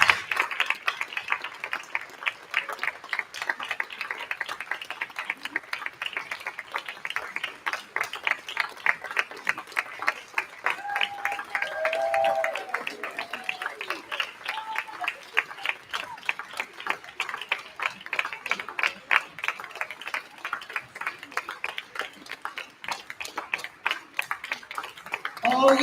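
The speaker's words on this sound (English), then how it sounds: "Let's give them a big round of applause for their very last concert here at Harrington School" Sustained audience applause for a fifth grade chorus at its final Harrington School spring concert, dense steady clapping from a crowd lasting the whole stretch, with faint voices underneath.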